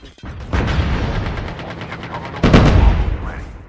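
Automatic gunfire from a Call of Duty Mobile battle royale match, two dense bursts of rapid shots, loud and close, with a heavier burst near the end.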